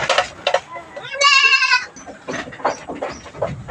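Goats bleat loudly while being weighed on a farm, one long wavering bleat standing out among several shorter calls and handling noises nearby.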